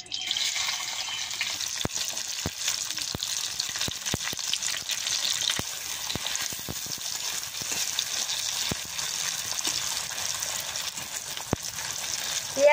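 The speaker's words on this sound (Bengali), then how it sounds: "পেঁয়াজ আর মরিচটা ভাজা হয়ে ফুটছে" Onion and green chili sizzle steadily in a hot pan in a village kitchen, the start of a lentil and banana-flower dish. The hiss runs loud and unbroken, with sharp scattered pops crackling through it.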